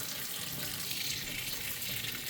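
Aeropress Premium coffee maker parts rinsed under a running tap: a steady, close, hissing stream of water that splashes continuously throughout, with no voices.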